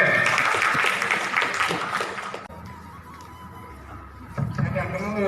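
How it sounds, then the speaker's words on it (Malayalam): An audience at a gathering applauds warmly and densely for about two and a half seconds, then the clapping thins to a quieter murmur with some movement. "ഒരു നല്ല കൈയടിയോടെ തുടങ്ങാം."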